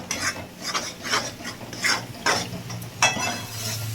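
Masala cooked down with whisked sour yogurt, cashews and raisins, stirred firmly in a pan for stuffed pointed gourd, giving rhythmic close scraping strokes of a spatula against the metal with a low sizzle underneath.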